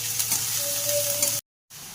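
Onion and chili frying together in hot mustard oil give a steady, close sizzle that holds evenly, then cuts to a brief silence before the hiss returns.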